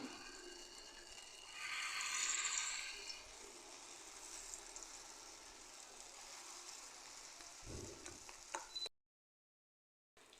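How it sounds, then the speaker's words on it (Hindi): Mangochi dumplings shallow frying in hot oil, a soft continuous sizzle with a louder crackling burst early on, a few clatters of a utensil near the end, then sudden silence. "यहाँ हमें मंगोचियाँ जो हैं ये शैलो फ्राई करनी है"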